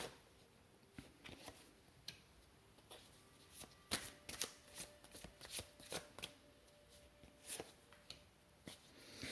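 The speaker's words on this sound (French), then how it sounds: "Je procède en fait en battant les cartes." A tarot deck shuffled by hand, with soft irregular card slaps and riffles close by over a quiet background and no talking.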